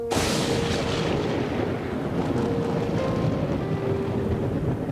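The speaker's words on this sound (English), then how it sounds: "Do you hear that thunder?" Thunder during an electrical storm in the video game Deadly Premonition 2, a loud sudden crack at the start that rolls into a long, steady rumble fading slowly, with no talk.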